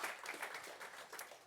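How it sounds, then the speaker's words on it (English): A round of applause breaks out after a bronze medal outcome is discussed in a World Athletics Championships preview, a short steady burst of many hands clapping, fairly close, with no talk over it. "I think we can give a round of applause for that, guys."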